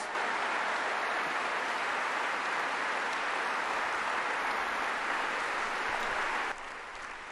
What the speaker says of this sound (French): ces applaudissements sont importants